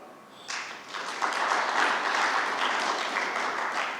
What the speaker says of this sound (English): I think you should clap for them.